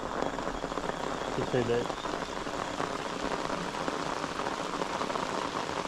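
Steady rain patters around a fishing boat during flooding rains while chasing saltwater barramundi, a dense even hiss running throughout with brief speech and a short tonal sound near the start.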